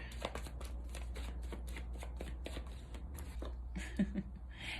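Tarot cards being drawn and shuffled by hand, a steady run of crisp papery riffs and flicks close up, with a soft thump near the end and no talking.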